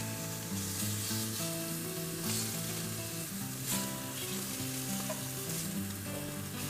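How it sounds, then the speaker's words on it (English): Mag bacon sizzling on a grill outdoors in heavy snow, a steady dense frying crackle that holds at an even level throughout, with no talking. "I stood in the heavy snow cooking the mag bacon on the grill"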